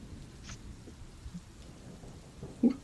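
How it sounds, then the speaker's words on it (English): Steady rain falls in a continuous soft wash over wet ground, with a few faint distant rumbles and a couple of brief louder knocks near the end. "everything's all wet because it's been raining for what, 2 days now?"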